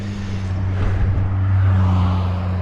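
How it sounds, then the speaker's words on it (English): A car gives it gas while climbing a steepening road, its engine a steady droning hum that swells slightly as it accelerates nearby, heard from a touring bicycle along with wind noise. "You hear the car giving it gas."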